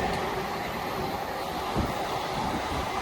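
Class 66 locomotive 66128 runs past on its way to Didcot from Wakefield, a steady loud rumble of engine and wagons rolling by close at hand.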